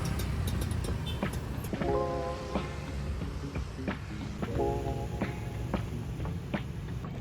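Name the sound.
heavy street traffic in Ubud, Bali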